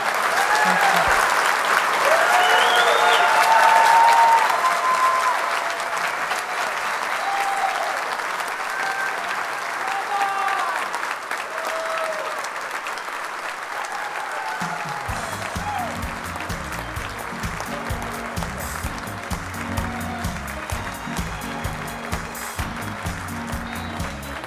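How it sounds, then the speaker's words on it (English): Sustained audience applause with scattered whoops fills a hall at an awards gala, loud and steady, then thins out while music enters underneath about two-thirds through. "One more round of applause, everybody."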